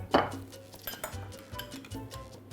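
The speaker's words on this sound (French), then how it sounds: "On prend une petite casserole" Light metallic clinks and knocks of a small pan being handled on a stovetop, a sharper clatter at the start, then quieter scattered taps.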